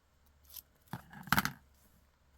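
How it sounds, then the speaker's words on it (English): Scissors snip through pieces of craft paper for a farmhouse craft project, giving a few sharp, close cuts with a double snip near the middle and quiet pauses between them. "We just got to cut 2 more pieces here."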